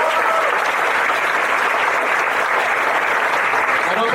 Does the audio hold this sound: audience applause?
yes